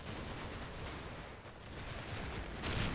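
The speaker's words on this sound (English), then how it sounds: "Your accuracy is terrible there, Mr. 2-inch mortar." Mortar and gunfire from a World War II Normandy battle in the Combat Mission strategy game, a dense, continuous rumble of fire and explosions with no pauses.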